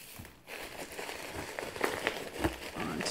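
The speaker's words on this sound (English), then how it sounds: "then I did a little more of this shredded paper" Shredded paper crinkles and rustles as it is packed into a gift box of fall items, a steady close-up rustle with a few sharper crackles throughout.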